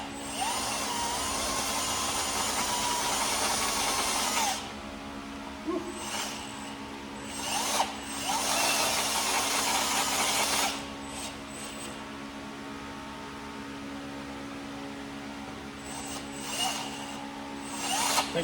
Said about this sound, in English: Run that drill bit through it.